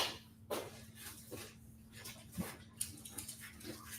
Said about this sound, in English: I can hear him. Come here, buddy.